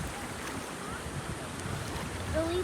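Strong wind at the bottom of the Grand Canyon roars steadily against the microphone as a constant loud rush.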